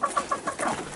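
Chickens and a rooster cluck in quick repeated bursts close by, a busy rhythmic clucking from several birds.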